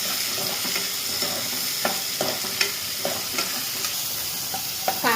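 Curry leaves, chilli and onion frying in a pan for aloo phadphada while a spoon stirs, a bright sizzle broken by irregular scraping knocks of the utensil against the pan, close and fairly loud.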